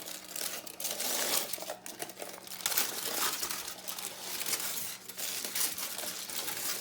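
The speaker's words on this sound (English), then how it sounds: "Sorry for the noise the aluminum foil makes." Continuous crisp crinkling and crackling of aluminum foil being handled up close, rustling unevenly without pause and with no voices.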